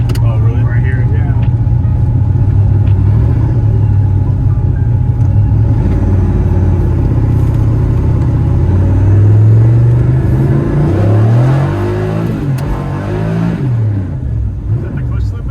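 A V8-swapped Pontiac Fiero drives with its clutch slipping, giving a loud, steady low engine rumble that swells and revs unevenly near the end, with people talking over it.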